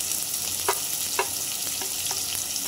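Onion frying in a pan for a leafy taklyachi bhaji, a steady hissing sizzle with a few soft stirring clicks, close up and without talk.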